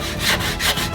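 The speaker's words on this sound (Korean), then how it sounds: "사포로 매끄럽게 해주세요." Two rhythmic back-and-forth scrapes of sandpaper rubbing wood, close and loud, without talk.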